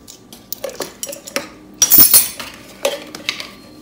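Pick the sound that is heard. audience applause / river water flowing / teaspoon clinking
teaspoon clinking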